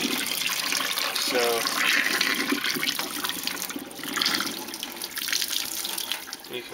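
Water is pressed and worked out of a wet, hand-washed sweater, making soft splashing and trickling sounds into a sink over several seconds, with a person talking over it.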